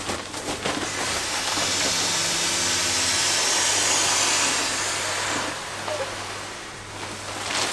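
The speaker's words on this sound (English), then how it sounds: "Vortex pump sack, hold this about 10 centimeters away from your mouth, which opens up." A Nemo Tensor Insulated Mummy sleeping pad being inflated with a Vortex pump sack gives a steady, loud rushing hiss of air that holds for several seconds, then eases and returns.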